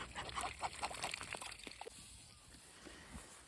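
Several ducks on a farm quack in short bursts nearby on a chilly morning, with faint splashing and background noise outdoors; the calls thin out toward the end.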